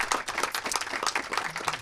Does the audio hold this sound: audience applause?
yes